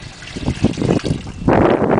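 Water carrying small eels is poured from a trash can into a 5-gallon bucket; a soft trickling and sloshing follows, then a louder gush of splashing water near the end.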